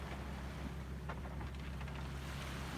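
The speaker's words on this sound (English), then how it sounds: "the engine went back on again, and it's been on ever since" A sailboat's engine runs steadily while motoring across a dead-calm sea, a constant low drone with faint water and wind wash, no voices.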